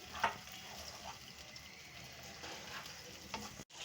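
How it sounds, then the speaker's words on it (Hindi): Onions frying in oil, a soft continuous sizzle with faint stirring scrapes and occasional pops, quiet and close, broken by a brief dropout near the end. "अब इसी तेल के अंदर जो है मैं प्याज जो मैंने रखा हुआ था वो डाल दूंगी। इसको भी सिर्फ 5 मिनट तक फ्राई करेंगे हम।"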